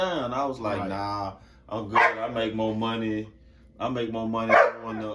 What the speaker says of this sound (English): Hey y'all, that's my dog